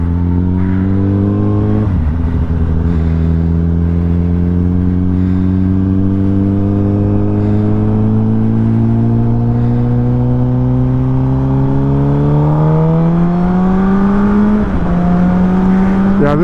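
A Suzuki GSX motorcycle rides a gravel-strewn road in Kenya. Its engine drones loud and close the whole time, dipping at a gear change early on and rising again near the end.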